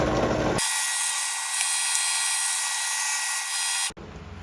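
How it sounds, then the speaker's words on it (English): A power drill bores into a hardened throttle ball stud on a 1965 Mustang with a 200 inline-six, a steady high whine held for about three seconds with a bright grinding edge, starting and stopping abruptly. "So we're gonna get to drilling."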